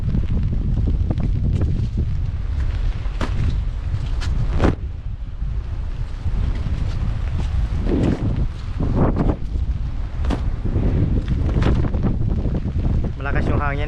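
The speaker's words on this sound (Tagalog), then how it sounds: "Malakas yung hangin." Strong coastal wind buffets the microphone at a rock formation by the sea, roaring in heavy, uneven gusts and thumps throughout, with voices faintly talking beneath it.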